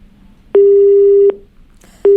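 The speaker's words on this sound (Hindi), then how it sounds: "लग रहा है फोन डिस्कनेक्ट हो गया है" After a phone call drops, a loud telephone disconnect tone sounds in clean repeated beeps, two long steady tones separated by a pause with a third starting, and no voices over it.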